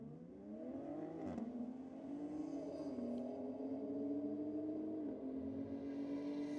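BMW M2 and Ford Falcon FG drag racing at a Sydney drag strip meet, engines droning steadily at high revs with a brief rise and dip as gears change, loud and sustained for several seconds with no talk.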